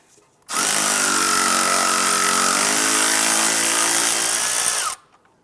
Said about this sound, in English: use a 10mm socket right here to go ahead and remove this bolt holding the ABS sensor to the knuckle